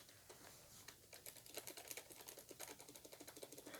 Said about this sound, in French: Un clavier Razer